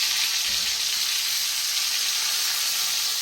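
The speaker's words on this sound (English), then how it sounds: "let's see how that sear's looking at the bottom" Steak searing in a hot pan, a steady close, even hissing sizzle that carries on unbroken throughout, with no talk.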